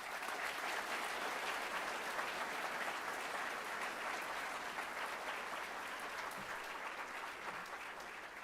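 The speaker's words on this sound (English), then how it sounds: "Please give a round of applause to Nora Mosca." Continuous applause from a crowd at a middle school eighth grade promotion night, dense and even throughout, heard at a distance and fairly faint.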